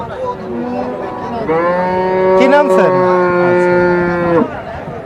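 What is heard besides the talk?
desi dairy cow mooing at cattle market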